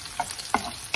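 Zucchini fries in a pan for pasta, giving a steady close sizzle with a few quick stirring scrapes over about a second.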